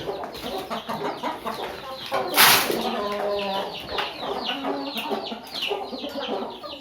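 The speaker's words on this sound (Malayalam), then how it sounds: "അപ്പോൾ അതേ മുട്ടിട്ടുകൊണ്ടിരിക്കുന്ന കോഴികളാണ് കേട്ടോ" Several laying hens cluck nearby in overlapping, repeated bursts, with a brief rustle of wings partway through; no talking.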